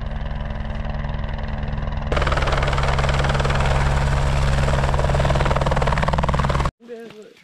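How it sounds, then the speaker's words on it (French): A rescue helicopter in the Yukon runs close and loud with a steady rotor chop and engine whine that grows stronger partway through, then cuts off sharply as a voice is heard. "Donc l'hélico vient le récupérer."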